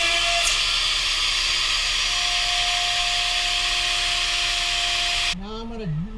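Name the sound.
Makita router running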